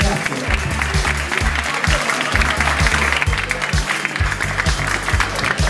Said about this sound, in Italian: Io direi di chiudere con un grande applauso tutti quanti i partner che hanno provato la sera